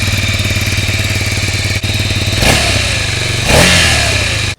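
A Ducati Scrambler Icon motorcycle engine idles with a loud, steady rumble up close, then revs sharply twice in quick succession before cutting off abruptly.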